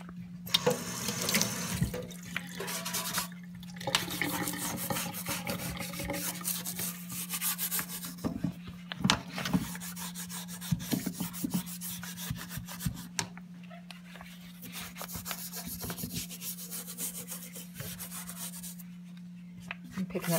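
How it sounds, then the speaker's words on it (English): An old toothbrush's bristles scrub briskly around a sink faucet in quick bursts, over a steady low hum, with brief pauses between strokes. "Now we're going to take our old toothbrush and clean around the faucet."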